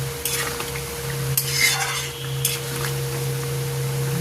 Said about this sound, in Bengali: দেখো বন্ধুরা তরকারিটা ফুটে গেছে, দিয়ে দিলাম সব দিয়ে দিলাম কোপ্তাগুলো।